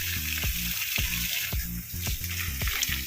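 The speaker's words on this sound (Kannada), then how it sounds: "ಈ ಥರ ನೀರು ಹಾಕೋದು ನಾನು ಯಾವಾಗಲೂ" Water splashes and patters steadily onto a rose plant in a terrace garden, a continuous hissing stream beneath rhythmic background music.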